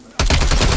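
Loud burst of automatic gunfire from Call of Duty: Black Ops Cold War, a sudden onset after a quiet moment followed by rapid, evenly spaced shots filling the rest of the brief moment with no talk.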